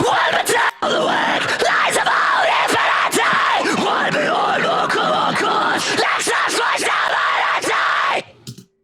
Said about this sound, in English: Then we have the screaming vocals